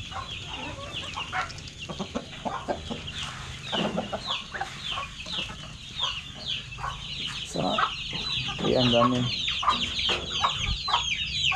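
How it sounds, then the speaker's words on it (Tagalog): Chickens clucking and chattering nearby, a busy backyard flock mixed with ducks, with overlapping calls and a few louder squawks, plus a brief spoken word. "Ito naman yung mga alaga kong mga manok."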